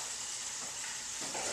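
Cereal-coated shrimp frying in a pan give a soft, continuous sizzle with a faint bubbling hiss, fairly quiet and without speech.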